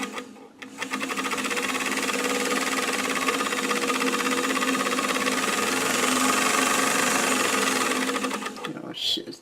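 A foot-pedal sewing machine runs in one steady, fast mechanical buzz of stitching for several seconds, then stops, with a voice heard faintly alongside.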